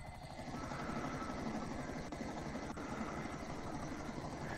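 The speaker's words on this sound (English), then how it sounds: "I see the helicopter" Helicopter in the video game GTA Online hovers with a steady rotor chop and engine drone throughout, faint and continuous with no talk.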